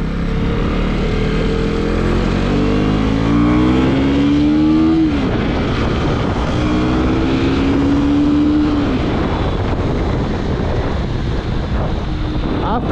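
A 2024 Husqvarna Vitpilen 250 motorcycle's 250cc engine revs through the gears on a ride, tone climbing then dropping at shifts, loud and close under heavy wind noise.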